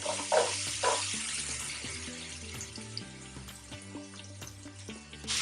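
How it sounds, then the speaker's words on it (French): Chopped onions hitting hot butter and oil in a pan set off a steady, bright sizzle, punctuated by a couple of louder splashes at the start and light utensil clinks throughout. "Je vais verser tout simplement les oignons"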